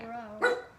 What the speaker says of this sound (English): Excuse our dogs.